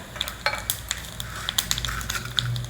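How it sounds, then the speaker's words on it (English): Mustard seeds, urad dal, cumin and chana dal sizzle in hot oil, a steady frying hiss broken by scattered sharp pops and crackles of seeds bursting, close and lively. "Add some mustard seeds, urad dal, cumin seeds, chana dal"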